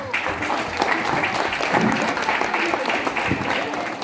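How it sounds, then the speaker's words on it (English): An audience claps for a shearer after a live sheep-shearing demonstration: brisk, close, continuous applause with a little crowd noise, lasting the whole stretch. "Let's give him a clap."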